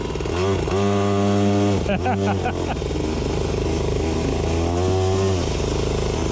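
A cheap single-gear Temu dirt bike engine runs close and loud with a buzzy, chainsaw-like note, revving up in bursts and settling back to a high idle, with a voice talking over it.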